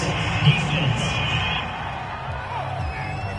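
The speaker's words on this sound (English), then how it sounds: "This home crowd, they're happy with that call." Home crowd at a football game cheering and whooping after a penalty flag, a broad steady roar filling the whole moment, with a louder swell near the start and voices shouting within it.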